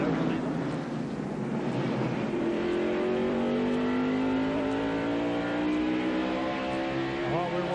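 Stock cars race at North Wilkesboro in the 1994 Tyson Holly Farms 400, engines roaring loudly and continuously with rising whine as cars pass, while a commentator talks over the noise.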